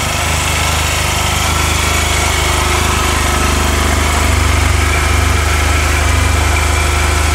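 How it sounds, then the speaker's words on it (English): Close by, a 2009 Honda Silverwing 600 idles through a LeoVince 8552 slip-on muffler, giving a steady, loud, low throb with faint vibration and no voices. "You'll hear the idle of it"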